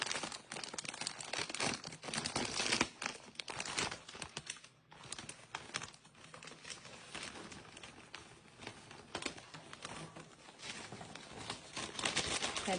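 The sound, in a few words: opening a crinkly snack package wrapper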